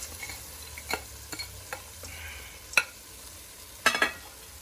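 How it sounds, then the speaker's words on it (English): Frozen green peas go into sizzling tomato masala in a pan for Punjabi matar paneer, giving a steady low sizzle punctuated by several sharp spoon scrapes and clinks, the loudest near the end, with no speech. "now we will put green peas, all of them at the same time"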